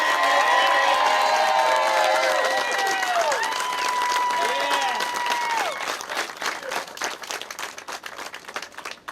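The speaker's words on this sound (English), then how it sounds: "How about some loud applaud right now and show your love for Toni and Ray?" Loud applause and cheering from a crowd at an outdoor street dedication honoring Toni and Ray Moore in Hamilton's North End, dense clapping with whoops over it that thins and fades near the end.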